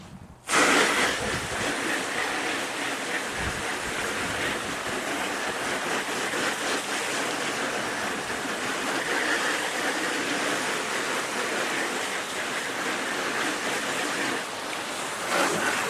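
Garden water hose sprays hard onto a UTV cargo box to imitate a rain shower, a dense continuous hiss and patter that starts abruptly and holds steady at close range for about fifteen seconds.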